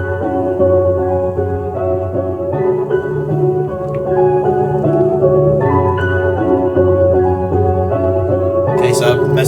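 A trap beat loop processed with the RC-20 Retro Color plugin plays continuously with deep bass, layered melodic tones and a lo-fi, colored texture, loud and steady.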